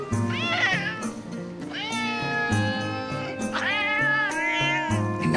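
In Metal Gear Solid: Peace Walker, a talking cat lets out three or four long, rising-and-falling meows, clear and up front against steady background game music.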